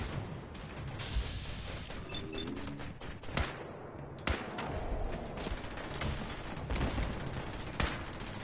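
Rapid gunfire in the Fallout 4 video game, with bursts of automatic fire and sharp single shots cracking through a dense, continuous combat din, close and loud without any talk.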